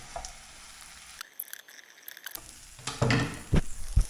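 Carrots, onion and a burger bun frying in a pan, a steady close sizzle broken by a brief lull, then louder crackling bursts and scraping stirs.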